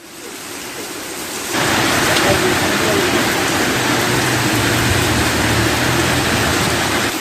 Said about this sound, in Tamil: அண்ணாமலை நகர், புவனகிரி ஆகிய பகுதிகளில் அரை மணி நேரம் கனமழை பெய்தது